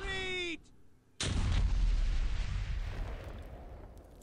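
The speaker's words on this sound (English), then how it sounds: "it ended with a toxic bomb 26 times more powerful than the first one, exploding" A toxic bomb explodes in World of Warcraft, a loud sudden blast that rolls into a long, dense rumble after a short tonal game sound and a brief lull.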